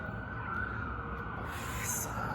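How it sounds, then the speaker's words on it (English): Wailing sirens sound in the distance, a faint steady tone under low background rumble. "So many sirens."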